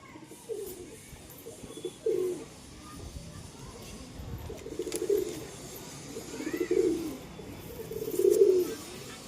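Pigeons coo softly in repeated low, throaty phrases every couple of seconds, with faint background noise.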